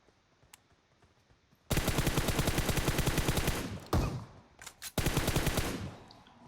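Loud automatic gunfire in PUBG Mobile: a sustained rapid burst of shots lasting about two seconds, a short break with a few single cracks, then another fast burst, all following a quiet start.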